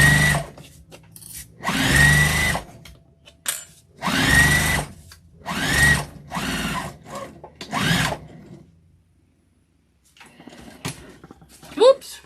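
A sewing machine stitching a vinyl and cotton tote bag runs in several short bursts of whirring with brief pauses between, close and fairly loud, then falls quiet near the end.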